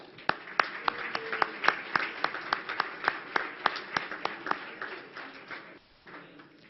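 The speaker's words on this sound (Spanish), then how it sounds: "pido por favor un fuerte aplauso" Scattered applause greets a speaker at a formal broadcasting-week event: distinct, fairly close claps in an uneven rhythm of roughly three per second that thin out and fade near the end, with no voices.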